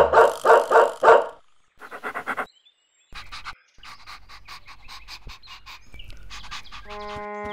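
A cartoon dog pants in quick, loud, rhythmic bursts, then pauses and pants again more softly, followed by lighter breathy sounds and a short musical cue at the end.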